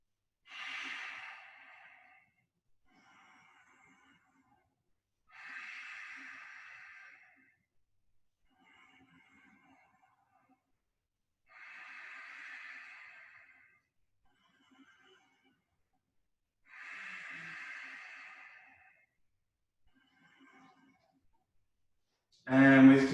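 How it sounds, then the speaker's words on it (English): Four slow, deep breaths are taken during a yoga tree pose, each a long audible inhale-exhale spaced several seconds apart in a quiet room, ending with a sudden louder sound. "Let's take 5 deep breaths here."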